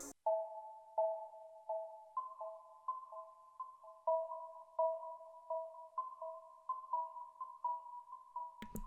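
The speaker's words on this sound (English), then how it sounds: "I came here and I took one of these bells." A Kontakt bell preset from East West Quantum Leap fed through a stereo delay, quiet bell tones ringing in a steady repeating pattern of pings with echoing tails.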